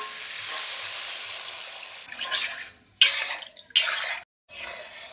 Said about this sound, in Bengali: এবার ঝোলের জন্য জল দিয়ে দেব।